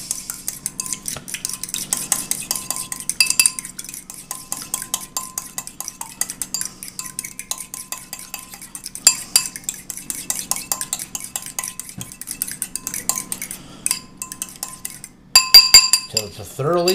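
Utensil clinks and scrapes as hamburger bun ingredients are stirred with a tablespoon of milk in a bowl, steady rhythmic tapping throughout, close and fairly loud, ending in a few sharper clanks.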